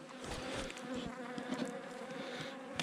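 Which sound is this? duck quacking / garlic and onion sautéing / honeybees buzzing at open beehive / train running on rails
honeybees buzzing at open beehive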